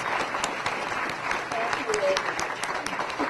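Audience applause at a school Reflections arts program recognition, a steady, dense wash of clapping from a crowd with a few faint voices mixed in.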